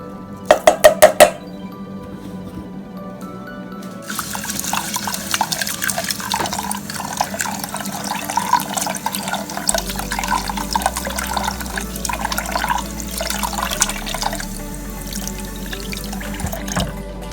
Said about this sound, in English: I'm going to wash this underneath some running water